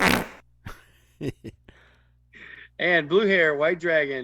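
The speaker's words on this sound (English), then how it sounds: "the fart noise was going over what he was saying" A cartoonish fart sound effect blurts out loud and alone at the start, followed by brief clicks and then someone speaking clearly on a fantasy football review podcast.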